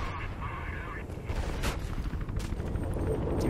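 Bursts of gunfire from a gun in the video game Mirror's Edge rattle along continuously, dense and fairly loud, with someone talking over them.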